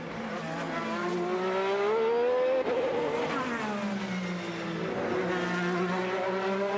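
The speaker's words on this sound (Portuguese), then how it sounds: "Vem pra volta, Palou, acelerando seu carro." An IndyCar race car accelerates hard in qualifying at the 2025 Detroit Grand Prix. The high-pitched engine whine rises and sweeps through gear changes, loud and continuous as the car passes.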